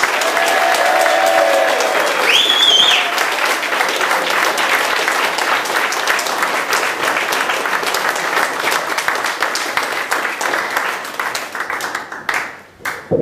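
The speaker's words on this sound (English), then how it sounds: "If you start a round of applause, take all the way around the room." A comedy club audience at a football club venue applauds steadily and loudly for about thirteen seconds, with dense clapping and scattered cheers that fade out briefly at the end.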